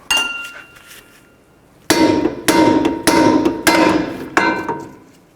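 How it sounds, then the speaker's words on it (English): Hammer blows ring out on the end of a tie rod on a 2004-08 Nissan Maxima during front hub and bearing work, with five sharp metallic strikes in an uneven rhythm, close and loud with no talk. "then you can hammer on the end of this"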